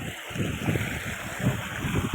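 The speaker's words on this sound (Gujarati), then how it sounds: "તો મિત્રો પાણી આવી રહ્યું છે ફૂલ." Heavy monsoon rainwater rushes strongly along a rural roadside, a steady broadband wash of flowing water with a soft gurgling texture, fairly close and continuous, with no one talking.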